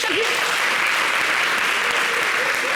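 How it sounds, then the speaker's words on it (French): A crowd applauds steadily and loudly, dense clapping filling the whole stretch without pause. "Donc pour ça, il faut applaudir."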